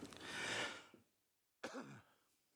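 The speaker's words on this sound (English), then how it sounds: "you'll have to excuse my cough, it hasn't gone away" Two separate coughs, close and fairly loud, the first longer and rougher, the second shorter after a quiet pause.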